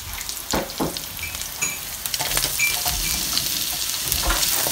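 Onions and a green chili fry and sizzle in a pan while being stirred, a steady close crackle with scraping stir strokes and no talking.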